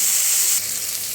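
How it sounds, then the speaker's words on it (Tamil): Onions and spices sautéing with salt in a pan for a prawn curry give off a steady, close sizzle that softens partway through, with no voices. "உப்பு போட்டு நல்லா வதக்கி வச்சுக்கலாம்"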